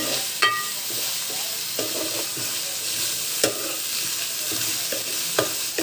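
Goat curry sizzles steadily in a hot pan while a spoon scrapes and stirs it at regular intervals, each stroke giving a sharp knock over the continuous frying hiss.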